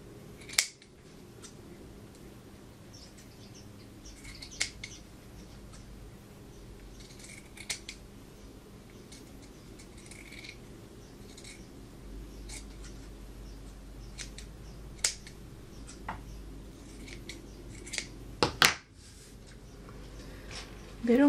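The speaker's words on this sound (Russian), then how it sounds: "Теперь мы это все вырезаем" Scissors cutting out fabric pieces while forming a doll's face, faint intermittent snips and rustles at close range over a quiet background, with a sharper handling clatter near the end.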